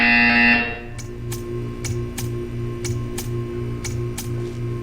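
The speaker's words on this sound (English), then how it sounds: "You will hear a buzzer." A buzzer in the video game Portal 2 sounds as a short series of regular, evenly spaced electronic pulses over a steady low hum, following a brief louder tone at the start.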